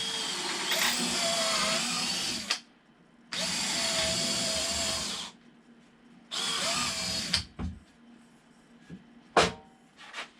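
A power drill runs in three sustained bursts of a few seconds each, whining steadily as it bores larger pilot holes for screws, with short quiet gaps and a few clunks between.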